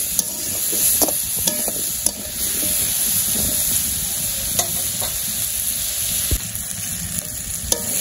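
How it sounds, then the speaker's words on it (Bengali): Chopped papaya fries with turmeric powder in a pan in a village kitchen, a soft steady sizzle broken by irregular scraping clicks of a spatula stirring close by. "পেঁপেটা ভালো করে কষিয়ে নেই,"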